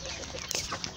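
Chickens and small chicks clucking in a henhouse with a Pedrês hen and her brood. Soft overlapping clucks and a few brief high peeps sound close by over a steady background hiss.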